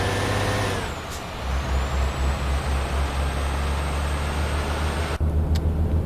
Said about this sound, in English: Take a look at our truck pulling out.